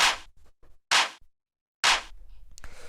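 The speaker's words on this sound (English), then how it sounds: "So this is just like a nice punchy clap you can hear." Three sharp, punchy drum machine claps from a disco techno track ring out one at a time with pauses between, each a bright snap with a short tail, and faint softer ticks in the gaps.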